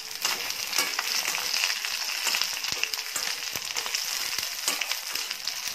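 Shallots, garlic, chillies and tamarind fry in a hot pan, giving a steady, close crackling sizzle with bright spattering and a few stirring scrapes throughout.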